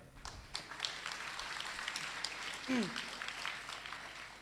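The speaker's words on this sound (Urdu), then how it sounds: "تالیاں بجا لیں یار." Audience at an Orphan Solidarity Day event applauds, a steady patter of many hands clapping at moderate distance, with a voice speaking briefly over it.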